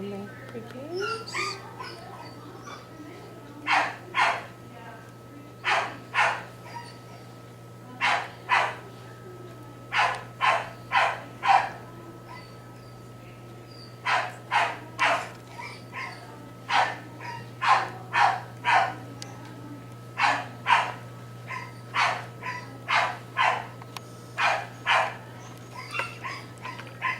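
A dog barks in repeated short bursts of two to four loud, close barks over a low steady hum, with a few whimpers between.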